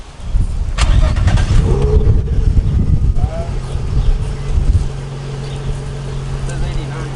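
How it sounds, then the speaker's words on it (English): A Nissan 350Z parked outdoors on a hot, windy day cranks and catches, settling into a steady low idle rumble close by, with wind noise over it. "We're gonna hear him start it up, guys."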